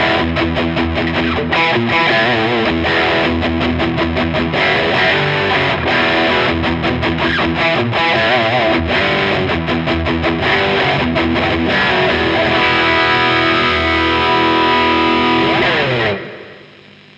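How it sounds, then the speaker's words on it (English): Heavily distorted electric guitar plays loud, dense chords and notes through a high-gain amp, continuous for about sixteen seconds before cutting off abruptly. "In the lower settings, it really gets spongy and a bit noisy actually when you play with a lot of gain."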